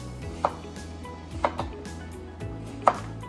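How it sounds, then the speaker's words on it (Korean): A knife slices cucumber into thin strips on a cutting board for gazpacho, giving four crisp, separate chops at irregular intervals over a quiet kitchen background. "오이는 조금 믹서기에 갈기 좋게 채를 썰 거니까 이렇게"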